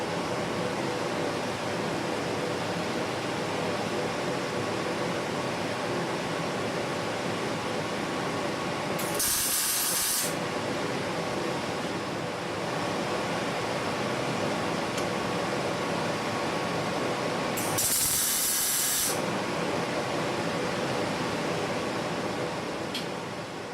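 Tack welds on a tool rest held with a plastic clamp, the welder running as two short, loud bursts of hissing crackle about nine seconds apart over a steady broadband workshop hum.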